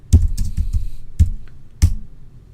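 Keystrokes on a computer keyboard as a command is typed in a university remote laboratory, a handful of close, sharp clicks in an uneven rhythm with short pauses between them.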